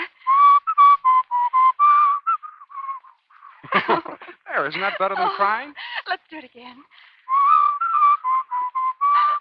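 A person whistles short bright notes in a repeated pattern, breaks off as people talk, then resumes whistling.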